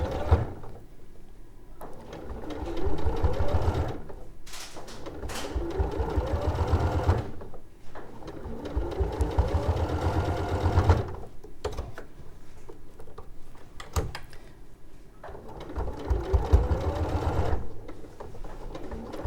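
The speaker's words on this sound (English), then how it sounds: "Just start quarter of an inch in, and then sew the base around the bottom of the mouse." A sewing machine stitches a fabric base onto a small toy mouse, running in repeated bursts of fast rhythmic clatter with short pauses between runs, close and clear.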